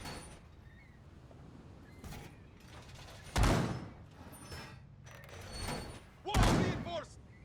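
Metal reinforcement barricades lock into place on a wall in Rainbow Six Siege, with mechanical scraping and creaking broken by two heavy, close thuds spaced a few seconds apart.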